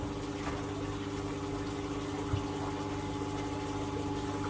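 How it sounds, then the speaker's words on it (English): Water poured slowly from a 2 litre jug into a coastal foraged aquarium tank, a steady gentle trickle and splash running throughout over a constant background hum. "we're just going to pour that slowly into the tank"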